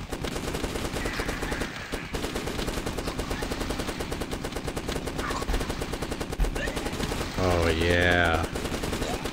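A gun fires in The Last Stand video game, a loud, continuous stream of rapid automatic shots across the whole stretch, with a brief spoken exclamation over it near the end.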